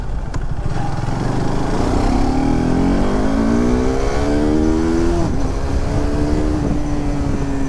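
A KTM RC 390 motorcycle on a morning ride in Mumbai, its engine revving past 7000 RPM, gives a loud, continuous rising whine that keeps climbing as the bike pulls hard, close and steady with no talking.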